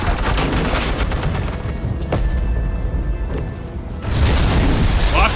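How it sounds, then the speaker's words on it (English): Suppressing gunfire in the Batman The Enemy Within video game: loud, sustained booming bursts of automatic fire, easing briefly midway before surging again at close range. "This is Agent Quinn, suppressing fire."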